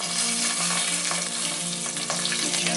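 Skin-side sea bass fillet frying in a fresh pan, a dense, steady sizzle with crackling spits, close and continuous, no voices.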